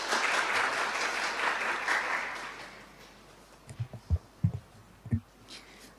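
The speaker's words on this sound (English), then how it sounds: "Applause, please." Applause from a conference audience opening an event in Zagreb, a broad rush of clapping for about three seconds that dies away into a few scattered knocks and thumps.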